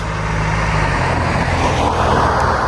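A BMW car approaches along a road, its engine building from a steady low rumble into a louder, broader rush of tyres and wind as it nears, with no talk over it.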